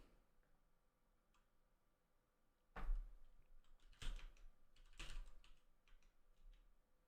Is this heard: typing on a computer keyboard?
yes